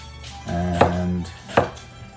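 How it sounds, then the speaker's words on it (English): A knife cutting eggplant on a board in a home kitchen while preparing vegan ratatouille, with two sharp, close chops about a second apart over a low steady background hum. "So we're gonna keep cutting some eggplant here,"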